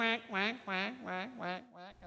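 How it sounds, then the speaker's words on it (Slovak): Wild geese honk as a flock flies overhead: five or six loud, nasal, wavering calls in a quick, uneven sequence, close and clear with no talking over them. "Krdeľ divých husí."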